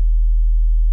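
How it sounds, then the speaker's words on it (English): A pure sine wave tone holds steady and loud, with faint aliasing hiss from foldover at the Nyquist frequency, sounding alone and unbroken throughout. "Let's start with a pure sine wave. Hear the hissing?"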